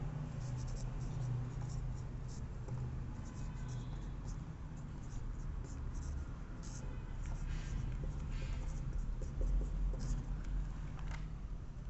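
Steady soft scratching of equations being written by hand during a physics lesson on angular momentum, close and quiet, with continuous short strokes.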